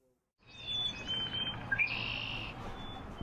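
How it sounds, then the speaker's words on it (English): Recorded chirping of local birds plays from a sound-sculpture system at a courthouse, with a few bright tweets and a longer trilling call over a low steady hum. "A system that greets visitors with the recorded chirping of local birds."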